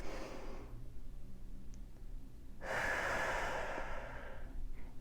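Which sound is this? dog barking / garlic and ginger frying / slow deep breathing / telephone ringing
slow deep breathing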